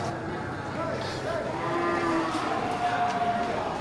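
Aceh cattle low with a couple of drawn-out moos against a noisy outdoor livestock-yard background, moderately distant.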